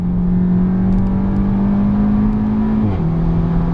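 A Seat Leon Cupra 290 engine holds a loud, steady drone from close range, rising slightly in pitch under acceleration before a quick shift drops the note near the end.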